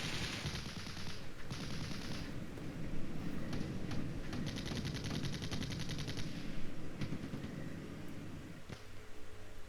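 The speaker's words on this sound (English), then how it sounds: "Here's an ATGM launch. It's a miss." Gunfire and an ATGM missile launch in the Flashpoint Campaigns Red Storm war game make a dense, constant clatter of shots over a rumbling battle bed, with a few sharper bursts and no talking.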